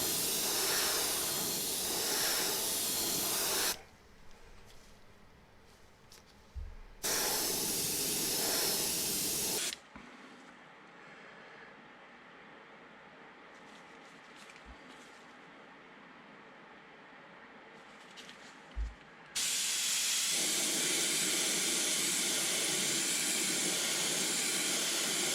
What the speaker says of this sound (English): I'm going to spray that moss green at an angle down the flank